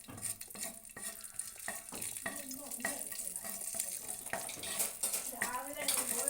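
Cashew nuts roasting in a pan over low gas flame, with soft continuous sizzling and repeated scraping stirs near and fairly quiet, a voice talking faintly underneath at times.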